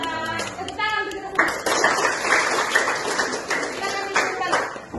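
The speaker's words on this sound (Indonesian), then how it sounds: "Tepuk tangan begitu." Classroom of children clapping hands in unison, a burst of rhythmic claps with voices mixed in and a teacher speaking over the group.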